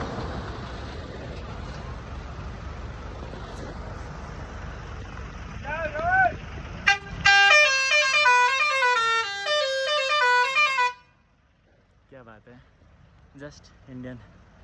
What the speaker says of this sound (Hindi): Indian horns.